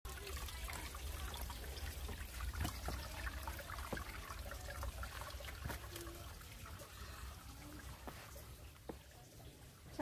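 Water trickles and splashes faintly over a stone as it is wetted by hand, a soft continuous dribble punctuated by small clicks and taps.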